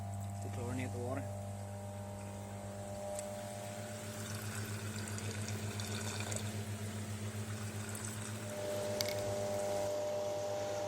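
Steady rush of water pouring from a hose into a container, with a constant low pump-like hum underneath and a brief voice near the start.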